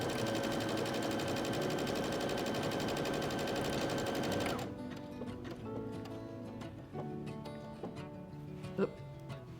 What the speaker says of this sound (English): start my buttonhole and let it stitch the buttonhole out all by itself